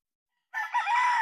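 A white Kelso broodcock rooster lets out a single close, loud crow that starts abruptly after a brief silence.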